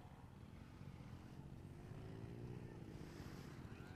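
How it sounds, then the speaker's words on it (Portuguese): A rough, rumbling engine with an open exhaust pipe drones steadily at a distance, its low throaty roar rising slightly midway, with no voices over it. "então escuta o barulho do motor"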